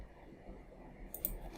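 A few faint, sharp mouse clicks, two close together and then one more, over a quiet room hum while shift-clicking to select edges when modeling in Maya.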